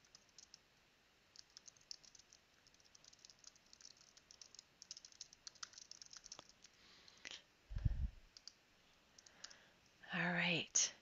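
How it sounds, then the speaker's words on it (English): Soft, scattered keyboard clicks come from someone typing a message, quiet and irregular, with a louder thump and brief speech-like sounds near the end. "I'm going to type it into the comment"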